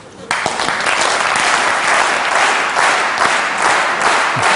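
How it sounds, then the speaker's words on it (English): An audience attempts to clap in unison, starting abruptly after a brief quiet moment and building into a loud, dense wall of applause with faint rhythmic pulses and some crowd noise. "Can you get it together to clap in sync?"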